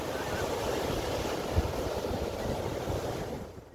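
Ocean waves wash steadily onto a shore where someone walks barefoot, a continuous broad rushing surf with wind noise that eases slightly at the end.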